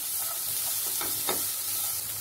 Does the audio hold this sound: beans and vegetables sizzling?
yes